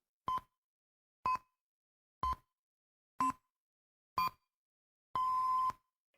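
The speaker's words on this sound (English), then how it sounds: "followed by 6 distinct beeps." Five short, evenly spaced electronic beeps, one per second, followed by a longer sixth beep, clear against silence: the Radio Mayak time signal.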